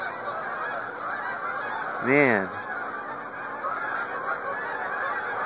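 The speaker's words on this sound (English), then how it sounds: "It's a lot of geese." Geese in a large flock give one loud, close, rising-and-falling honk midway, over a steady hum of more distant calls. Someone speaks one brief word.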